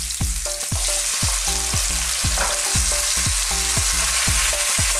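Chili, onion and tomato sizzle steadily in a pan while being stirred for a Filipino chicken and green beans dish, a constant bright frying hiss with a repeating light musical pattern underneath.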